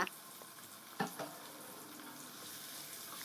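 Carrots, pork and garlic stir-frying in lard in a hot pan for Betong-style fried noodles, giving a steady sizzle with a couple of spatula scrapes near the start, close and alone.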